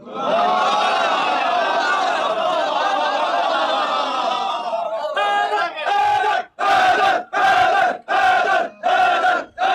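Large crowd at a religious gathering chanting slogans in unison, loud and dense, first as a sustained roar, then as rhythmic shouted bursts separated by short pauses.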